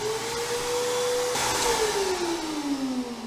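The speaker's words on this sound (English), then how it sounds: "I've also got the dust collector set up with a vacuum" A vacuum serving as the dust collector on a Central Pneumatic sandblast cabinet runs at a steady whine, its pitch dipping and sliding lower partway through as the motor load changes; moderately loud and close.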